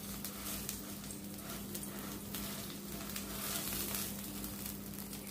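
A chapati cheese sandwich fries in butter in a pan, giving a soft, steady sizzle that runs without a break at a low, even level.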